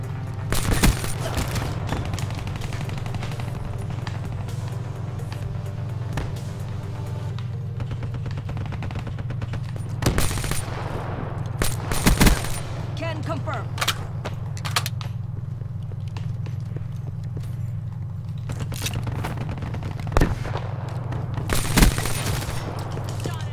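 Gunfire in a Black Ops video game, with sporadic bursts and single shots cracking over a constant low game drone, loudest in a few clusters across the stretch.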